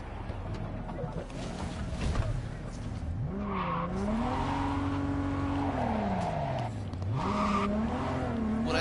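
A car driven in Cyberpunk 2077 revs up and down in long rising and falling sweeps, with tire squeals and a constant engine drone throughout.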